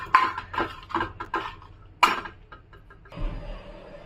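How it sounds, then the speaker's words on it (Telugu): Coriander seeds and dried red chillies frying in a little oil in a pan, heard as scattered clinks and light scraping bursts followed by a steadier low sizzle toward the end, close and moderately loud. "ధనియాలు 2 స్పూన్లు, ఇప్పుడు కొద్దిగా ఆయిల్, ఎండుమిర్చి అవి కూడా ఫ్రై చేసుకోవాలి."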